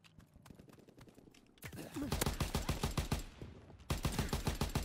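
Rapid video-game gunfire in a gun-game match bursts in dense, repeated volleys. It starts faint and grows louder and steadier, as sustained shooting close to the player.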